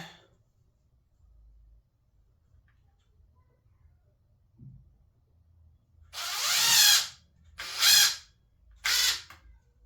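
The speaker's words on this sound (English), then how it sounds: "So I'm using a drill" A power drill whirs in three short bursts near the end while shelves are built in a garage, each a second or less, following a quiet stretch with faint background noise.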